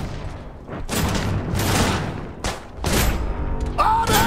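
Battle in the real-time strategy game Iron Harvest with an exosuit under fire: bursts of gunfire and heavy booming impacts come in clustered volleys, with brief game unit voice lines between them.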